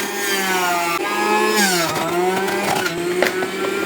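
A multi-juicer motor whirs steadily as a banana stem is fed in crosswise, with a strained, wavering machine drone and grinding texture that rises and dips under load, close and loud throughout without talk.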